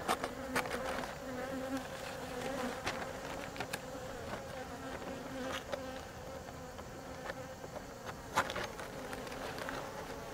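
Honeybees drone in a dense, continuous buzz close by during beekeeping work at a hive, with a few sharp clicks and taps from handling equipment cutting through now and then.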